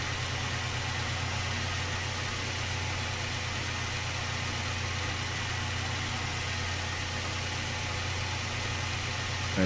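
A truck engine idling in the Snowrunner video game, a steady, even mechanical drone with a faint rhythmic pulse that holds unchanged throughout, with no talking.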